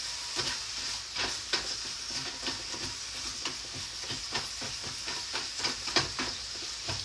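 Vegetables sizzle steadily in a hot pan, with a constant frying hiss broken by frequent crackles and pops, close up and fairly quiet.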